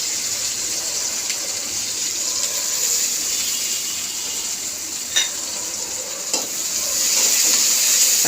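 Green chilies and onions fry in oil with salt, a steady broadband sizzle running throughout with a couple of brief clinks or stirs near the end and a slight swell in the final second.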